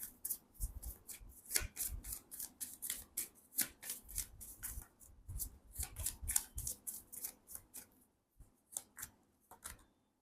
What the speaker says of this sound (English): let me pull the last card for you guys from the romance angels.